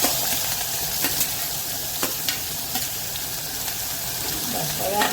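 Garlic, green chili and onion sautéing in oil for a Gujarati moong masala, a loud, constant hiss of frying with occasional spoon knocks against the pan.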